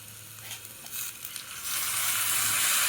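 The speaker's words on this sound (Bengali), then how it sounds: "তারপর আমরা হালকা করে ফ্রাই করে নেব" Salt and chopped tomato frying in a pan for cheese Maggi, a soft steady sizzle that swells into a louder, continuous hiss partway through, with faint stirring scrapes.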